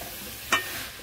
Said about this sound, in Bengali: ওদিকে কষানো চলছে